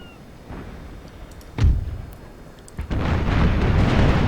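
Naval cannon fire battering a sloop in the game Empire Total War, a deep boom partway through followed by a heavy sustained rumble of broadside fire, no talking.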